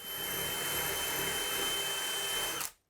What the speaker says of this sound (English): So the job here is to spray water on the wall above where I'm drilling